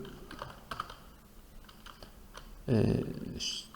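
Computer keys are pressed one at a time in sparse, distinct clicks close up, followed by a brief louder thump and a voice at the end.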